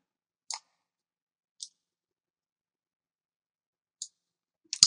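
Computer mouse clicking during Photoshop editing, four or five isolated sharp clicks spaced irregularly over near silence, close and crisp, the last one a quick double.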